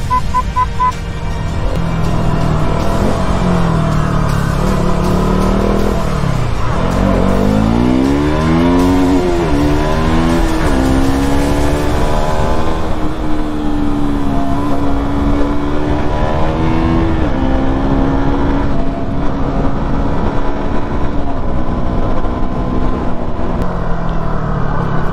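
A KTM RC 200 BS6 motorcycle engine revs and accelerates while riding on a road in Uttarakhand, a loud steady drone with rising and falling pitch sweeps, close up, with no talk over it.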